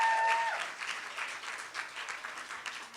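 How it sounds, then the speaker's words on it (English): An audience at a spoken word poetry night in the Sketch Bar gives a round of applause for the bar staff. The clapping is brief and moderately loud, with a short whistle-like tone at the very start. "Give a big round of applause to all the wonderful bar staff"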